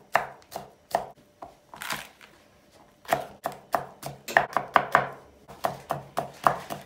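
Onions and peppers are chopped with a knife on a board, crisp regular strokes coming in quick bursts with short pauses between them, close and clear without talk.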